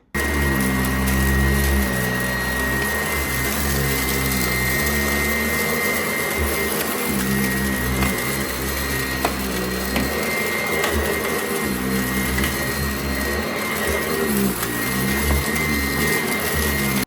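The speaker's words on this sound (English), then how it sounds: "this machine might have a lot of airflow, but it clogs so much that it struggles with heavy debris" A Sanitaire Tradition SC887E bagless upright vacuum cleaner runs loud and steady on carpet, with a constant motor whine and airflow roar that barely changes from start to finish, no voices over it.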